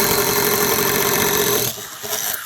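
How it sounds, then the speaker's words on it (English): A drill turning a 7/16 paddle bit to bore a starter hole, a close, steady whirring drone that runs evenly and then stops sharply, leaving a few faint rustling sounds afterward. "Just a little 7/16 bit, all right, paddle bit. We're gonna put this through about an inch or so off your line"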